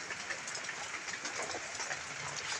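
Heavy rain pouring onto a cottage roof, a dense, steady hiss that holds unbroken throughout, fairly soft and without talk.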